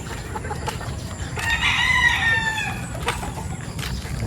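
A white Kelso rooster crows once, loud and fairly close, a drawn-out call over a noisy outdoor background with faint clucking around it.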